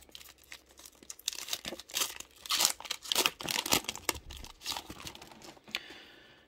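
Plastic wrapping crinkles and tears as a Pokemon Shining Fates collector tin and its card packs are opened, a run of close, uneven rustles and crunchy rips that swell louder in the middle before fading.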